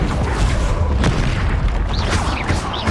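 A Confringo fire spell going off in the video game Hogwarts Legacy, a loud booming blast with crackling bursts that fill the whole few seconds, with no talking.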